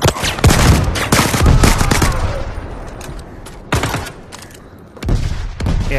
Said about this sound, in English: we're just out here shooting shit